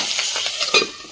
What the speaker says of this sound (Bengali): ফাটছে খুব।